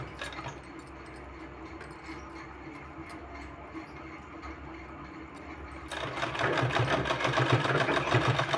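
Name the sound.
sewing machine stitching a neck design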